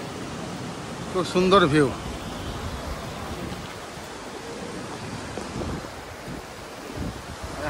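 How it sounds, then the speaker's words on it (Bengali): Water pours through an upper lock gate in a steady broadband rush, heavily mixed with wind buffeting the microphone. A person talks briefly near the start. "এদিক থেকে জলটা আসছে, এই হচ্ছে তার ভিউ। আর এই হচ্ছে গেট, গেট দিয়ে জল পাস হচ্ছে।"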